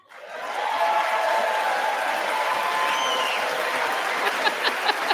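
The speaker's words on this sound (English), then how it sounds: "that's got to be a one-sided applause." Applause at the State of the Union, a large crowd clapping in a steady roar that swells up quickly and holds, with a few sharper claps and faint cheers near the end.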